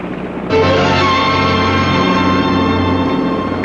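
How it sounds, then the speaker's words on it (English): Boat engines drone steadily on the water, a loud, continuous mechanical hum that kicks in abruptly and holds level without pause. "Cut the engines, Ted."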